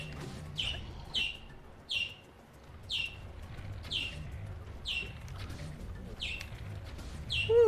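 Birds chirp in the video game Breath of the Wild, a series of short bright tweets repeating roughly every half second over a low hum of game ambience and music.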